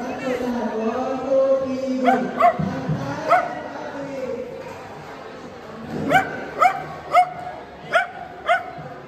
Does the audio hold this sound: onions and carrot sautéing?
no